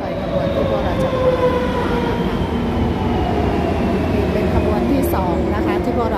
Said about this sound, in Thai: รถไฟขบวนที่พวกเราจะไปนะคะกำลังมาค่ะสองขบวนสวนทางกันเลย